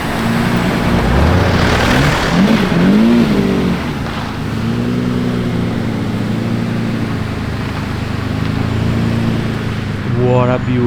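Lamborghinis drive past on a road at an exclusive Lamborghini event, their engines loud and close. One revs up and the pitch climbs as another car passes.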